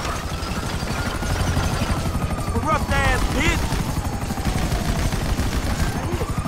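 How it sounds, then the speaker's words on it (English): A police helicopter in GTA 5 beats with a steady, loud, rapid rotor thump under bursts of gunfire, while someone shouts briefly over the din. "We gotta take out that chopper!"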